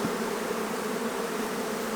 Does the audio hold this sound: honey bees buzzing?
yes